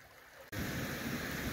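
A brook beside a hiking trail bridge on the Appalachian Trail in New York flows with a steady, close watery rush that begins abruptly after a faint opening moment, with no voices.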